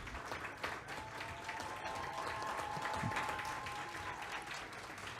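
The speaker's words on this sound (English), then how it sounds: "let's give them a round of applause" Steady applause from a large crowd at a school governing board meeting fills the space, dense clapping sustained throughout with a faint tonal hum running underneath.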